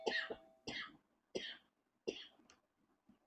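Four sharp coughs in a row during a live online class, evenly spaced and fairly close, each a short harsh burst followed by quiet, with one faint breathy sound after.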